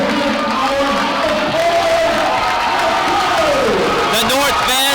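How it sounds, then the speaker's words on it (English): High school basketball fans in a gym stand and cheer in a loud, sustained roar mixed with whoops and clapping, continuous throughout. "The North fans are now standing, cheering on their comrades on the floor."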